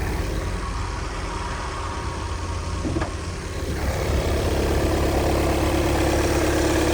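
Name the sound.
car engine idling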